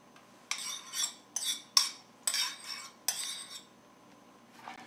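A metal utensil scrapes and clinks repeatedly against a pot while turkey fricassee sauce is stirred, quiet rhythmic bursts with short pauses and no voices.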